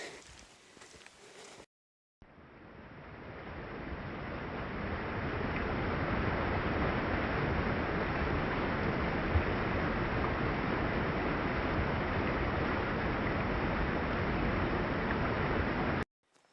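Flowing water of the Nolichucky River, heard from a hiking trail above it on the Appalachian Trail in Tennessee; a broad, steady rushing roar that swells in and holds evenly, following a brief rustle.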